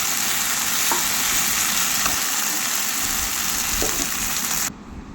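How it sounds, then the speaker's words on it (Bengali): Ginger, garlic and green chili paste frying in a pan makes a loud, steady close sizzle with a few faint stirring knocks, cutting off abruptly near the end. "দিয়ে আদা, রসুন আর কাঁচা লঙ্কার একটা পেস্ট এর মধ্যে দিয়ে দিচ্ছি।"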